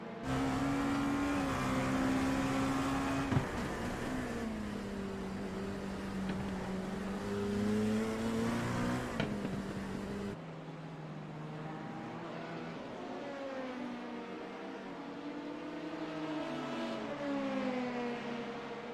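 Race cars lapping the Sebring circuit during a 10-hour endurance race, engines droning and shifting pitch as they accelerate and pass, steady and fairly loud throughout with no talk.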